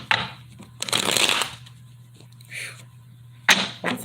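Tarot cards shuffled in a few quick papery riffling bursts, close and fairly loud, with soft handling noises between them and no talk.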